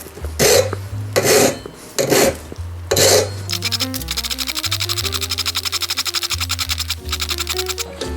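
Metal file rasping on a bicycle frame tube during a frame build, first a few slow separate strokes, then a long run of quick, even, rhythmic strokes, close and steady.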